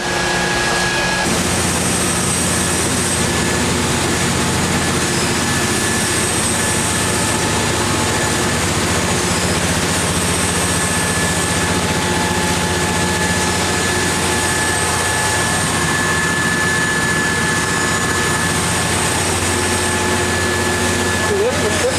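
Grumman aircraft engines run in a steady, loud, droning roar for over twenty seconds, with people talking beneath the noise.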